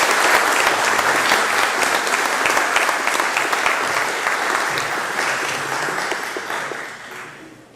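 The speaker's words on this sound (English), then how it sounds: "Let's give him a round of applause." An audience applauds an award recipient at an association event, loud sustained clapping from a crowd that slowly fades over the last few seconds, with no voices heard.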